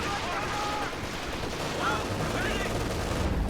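Machine gun fire and battle noise fill a Company of Heroes 2 multiplayer match as an infantry squad is pinned down, with rapid bursts under a dense wash of combat ambience.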